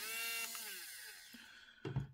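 A small rotary tool with a sanding drum whines at high speed and winds down, followed by a brief rough scraping burst against a plastic model kit part.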